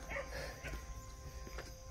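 A dog barks from inside a building on a rainy night, a few short, fairly distant barks rising over a steady background hiss.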